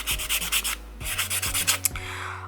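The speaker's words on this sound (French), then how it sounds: "je prends mon bloc jaune et je buffe mes ongles comme ça" Rapid rhythmic rubbing of a yellow buffer block across fingernails after filing, a string of short close scratchy strokes in quick bursts with no talking.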